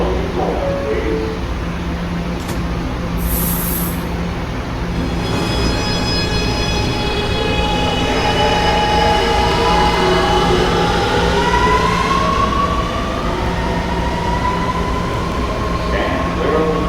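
An R211A subway car on a westbound B train rumbles along the track with steady wheel noise and rising whines, loud and close from inside the car, a brief chime near the start and faint voices in the background.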